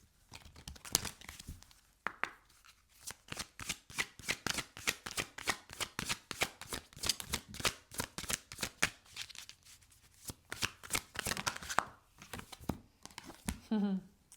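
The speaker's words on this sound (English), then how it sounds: "let me shuffle" Astrology cards shuffled by hand in a steady run of quick papery riffles and flicks, close and fairly loud, with a brief pause near the two-second mark and a final burst toward the end.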